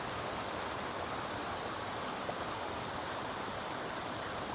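A creek flows beside the Appalachian Trail as a steady broadband rush of water, close and continuous with no pauses.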